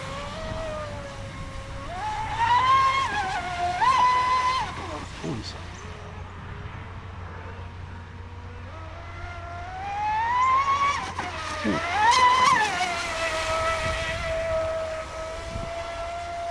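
A small RC boat's motor whines and surges as it runs on the water, pitch climbing and dropping with each push of the throttle, while someone talks over the engine throughout.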